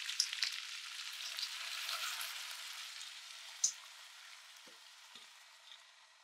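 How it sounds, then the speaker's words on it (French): Table beer being poured over Liège meatballs with raisins and prunes foams up with a steady fizzing crackle of bursting bubbles. A few soft clicks sound through the hiss as it slowly fades. "Ça mousse, ça, il faut attendre un petit peu."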